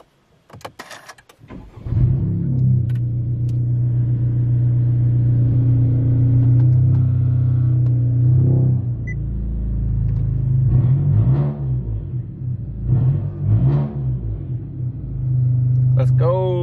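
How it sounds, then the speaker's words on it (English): A 10th gen Honda Civic Si cruising on the interstate, a steady close engine drone and road rumble from inside the cabin, with a brief rise around the middle and a voice briefly heard over it. "let's get on the interstate and let's get rolling down the road"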